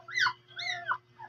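Willow, a dog with a new litter of puppies, lets out two high, wavering whimpers and then a shorter faint one, close by, over a low steady hum.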